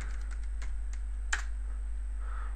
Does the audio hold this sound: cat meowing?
no